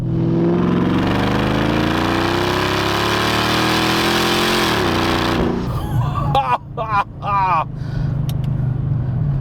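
A Mercedes CLS55 AMG engine roars as it revs hard, pitch climbing steadily, then drops to a lower drone while a voice speaks briefly over it.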